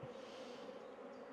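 Honeybees in an open hive, worked without smoke during a tap test on colonies being screened for breeder queens, give off a steady, unbroken buzzing hum that stays faint and even throughout.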